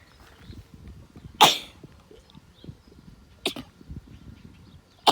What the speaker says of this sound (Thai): จาม เนาะก็ต้องขอโทษขออภัยนะคะ